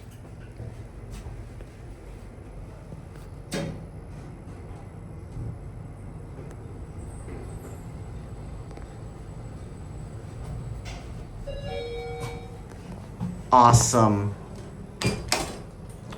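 A brief tonal chime sounds from a Sigma traction elevator at Shuangjing station on Line 10 of the Beijing subway, amid a low mechanical hum and clunks. A person speaks briefly just afterward.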